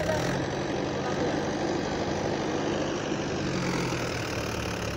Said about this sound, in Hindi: अब लोड के थर्ड गियर में चलेगा ये ट्रैक्टर